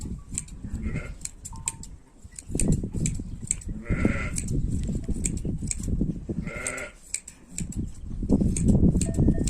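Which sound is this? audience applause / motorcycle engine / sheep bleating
sheep bleating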